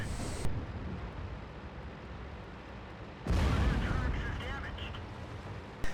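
A tank cannon firing in a video game, one heavy booming blast midway through with a rumbling tail, under a steady wash of game background noise and faint speech.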